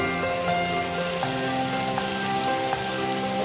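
Ginger, garlic, chili and onion paste frying in a pan, a dense even sizzle like light rain with faint occasional ticks, continuous and fairly close.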